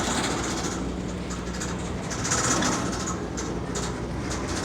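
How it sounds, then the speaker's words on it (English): A CSX box car rolls past at close range in Baldwin, Florida, a steady loud rumble of wheels on rail with faint rhythmic clacks and no talking. "Oh, CSX car."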